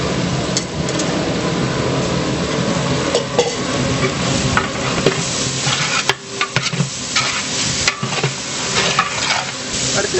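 Onions with rock salt and green chillies sauté in a large pot for sambar rice for a hundred people, a loud, continuous sizzle overlaid with repeated scraping and clanking stirs, close up and without speech.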